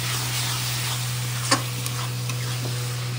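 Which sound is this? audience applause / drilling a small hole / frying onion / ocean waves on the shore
frying onion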